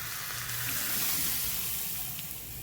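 Hot tempering of mustard seeds, cumin and garlic sizzles steadily as it is poured over a sweet-sour mango salad, a continuous close hiss with no talk.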